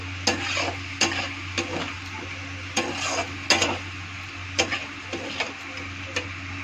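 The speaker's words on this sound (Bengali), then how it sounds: "এখন ভালো করে একসাথে মিক্স করব।" Ginger-cumin paste stirred into a frying pan with a spoon, a steady run of scraping and tapping strokes in an irregular rhythm over a gentle sizzle, close and clear with no talk.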